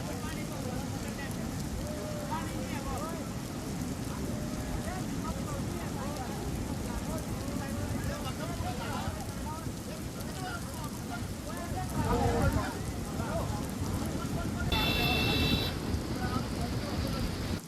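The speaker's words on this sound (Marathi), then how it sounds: "यामुळे तुफान पाऊस कोसळतोय." Heavy rain pours after a cloudburst in Kullu as a dense, steady roar that swells slightly near the end, with faint voices beneath.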